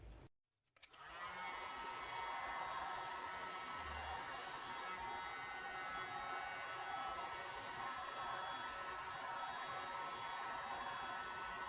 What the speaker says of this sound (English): Okay, heat gun.